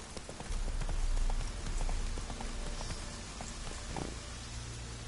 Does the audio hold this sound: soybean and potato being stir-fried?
no